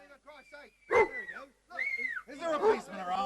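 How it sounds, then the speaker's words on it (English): A dog yips, whines and barks in short bursts, close and fairly loud, with a few high whimpering notes between the barks. "They heard a dog barking and a crowd of people outside."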